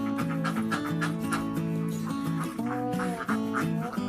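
A flock of laying ducks quacks steadily in a pen, dense overlapping calls forming a continuous nasal chorus that stays close and fairly even throughout.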